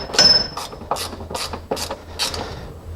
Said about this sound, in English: then you come back and you tighten this bracket down.